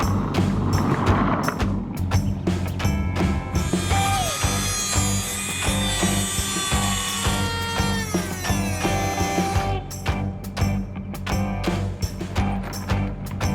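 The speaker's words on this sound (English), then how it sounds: "I just have this little Dremel tool with like a carbide cutting blade at the end." A small Dremel rotary tool with a carbide cutting blade grinds through a chain link, a loud continuous high-pitched whine and scraping that rises and falls with pressure, with sharp clanks of metal at the start and end.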